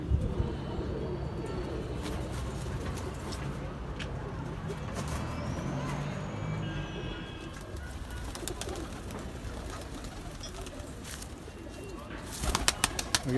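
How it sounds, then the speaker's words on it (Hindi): Pigeons coo softly in the background amid constant outdoor rumble and traffic noise, with a brief louder clatter near the end. "कबूतर है"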